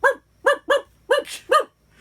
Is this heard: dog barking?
yes